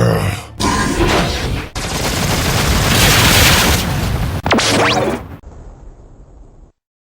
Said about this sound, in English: Say hello to the Sky Manipulator Cannon.